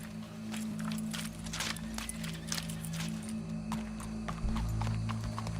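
Horse hooves clip-clopping in Red Dead Redemption 2, a run of close, clear hoof strikes at a walking pace over a low steady background.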